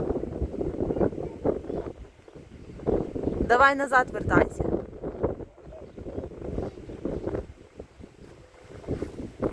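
Strong wind buffets the microphone in a continuous low roar, with a person speaking briefly over the gusts.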